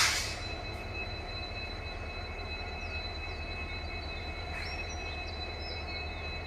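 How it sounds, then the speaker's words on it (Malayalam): A WDP 4D diesel locomotive idles at the neighbouring platform of Mysore railway station, giving a steady, continuous low engine rumble with a faint high whine, unbroken and moderately distant. "ഇപ്പോൾ ഈ കേട്ടുകൊണ്ടിരിക്കുന്ന ശബ്ദം തൊട്ടപ്പുറത്തെ പ്ലാറ്റ്ഫോമിലായിട്ട് ഇതുപോലത്തെ ഒരു WDP 4D ഡീസൽ ലോക്കോ നിർത്തിയിട്ടുണ്ട്."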